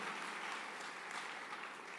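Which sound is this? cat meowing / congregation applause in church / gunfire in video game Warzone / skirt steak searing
congregation applause in church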